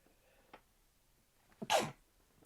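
A single quiet, quick sneeze with a short intake of breath just before it, in an otherwise hushed room.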